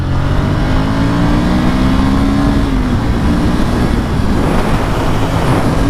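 A 2020 Ducati Monster 797+ motorcycle accelerates hard in second gear on the way to a freeway. Its loud, steady engine drone climbs in pitch for about three seconds, then shifts into a rougher, sustained roar with heavy wind rumble.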